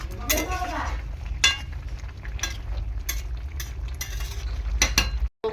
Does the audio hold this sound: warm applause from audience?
no